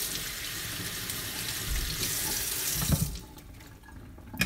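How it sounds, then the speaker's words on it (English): A kitchen tap runs water into a sink during meal prep, a loud, steady rushing splash that cuts off partway through and leaves a quiet room with a couple of small clunks. "Hope the water isn't completely ruining the sound quality of this video."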